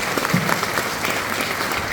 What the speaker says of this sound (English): I think that deserves a round of applause on its own.